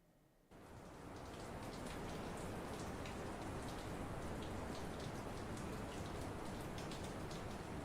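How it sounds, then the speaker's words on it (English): A rain background sound effect starts abruptly after a short quiet moment, then holds a dense, steady hiss of falling rain with fine pattering drops, loud and unbroken throughout. "These are all rain backgrounds."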